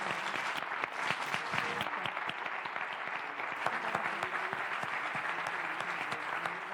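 Audience applause at a business forum in Mallorca, a steady dense clapping that fills the room at an even level throughout, with no talk over it.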